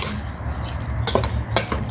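Utensils scrape and clink against a bowl in a few short bursts, close by, over a low steady background hum, while a meat marinade sauce for Thai grilled pork is stirred.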